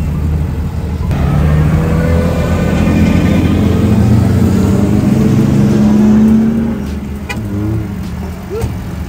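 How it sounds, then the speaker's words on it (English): Naturally aspirated BMW drift car fitted with headers and an aftermarket exhaust, idling and revving loudly at close range at a rainy speedway, its engine drone rising and swelling before easing off near the end. "There's headers and an exhaust, pretty much what you do to any BMW to just do bolt on and go with the NA car"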